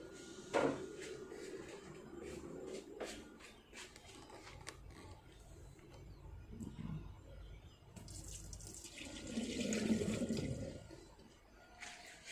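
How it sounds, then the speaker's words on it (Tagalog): Hot water poured out of a color-changing magic cup into a sink: a soft splashing trickle that swells into a fuller gush near the end, with no voices. "So, itapon na natin yung mainit na tubig."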